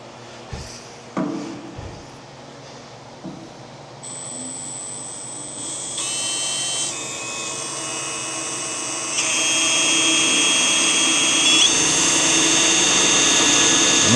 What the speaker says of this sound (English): the key to drilling through thicker metal is to go a little slower